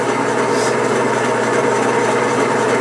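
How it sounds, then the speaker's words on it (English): A Kwik Way cylinder head machine's spindle turns at low RPM, giving a steady, even mechanical hum and whir that continues unchanged throughout, with no talking. "I got it set on low RPM, and that's the spindle movement."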